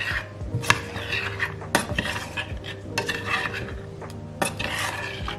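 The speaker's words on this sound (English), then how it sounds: "we add 180 grams of chocolate, dark chocolate. And we need to mix it" Dark chocolate being stirred as it melts in a pan over low heat with butter, heard as steady scraping and clinking of a utensil against the pan with a few sharper knocks, close and fairly loud, with no voices.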